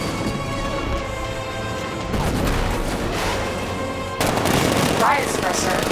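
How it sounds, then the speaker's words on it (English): Heavy 60mm tank cannon fire and explosive blasts erupt in loud bursts, growing more intense partway through, layered over a dense background in the video game Batman: Arkham Knight. "60mm cannon operational."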